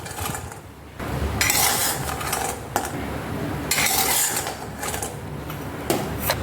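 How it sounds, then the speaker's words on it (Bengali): Fried lentil wadis being lifted out of a wok, with repeated metallic scraping and clinking of a utensil against the pan in separate bursts over a low background hiss. "তো ভাজা হয়ে গেছে, আমি এবার উঠিয়ে নেব।"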